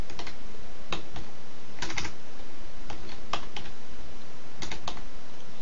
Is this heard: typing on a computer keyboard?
yes